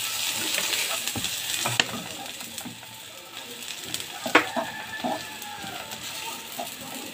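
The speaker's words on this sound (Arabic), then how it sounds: "ونقلب كل شويه، نقلب ما تديش فرصه ان حاجه تتحرق او تتلسع" Eggplant pieces stir-frying in a little oil in a pan for a moussaka tray, a steady close sizzle with scraping stirs and a few sharp clicks of the utensil against the pan.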